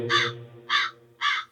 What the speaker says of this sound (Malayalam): കാക്ക കറിയുന്ന